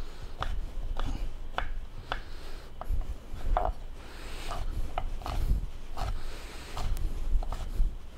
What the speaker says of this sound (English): we're just gonna chop it up a little bit